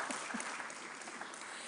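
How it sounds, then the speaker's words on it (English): An audience claps at a book launch event in Kumasi, a steady, fairly faint patter of many hands lasting the whole short stretch without a break. "We can clap for them."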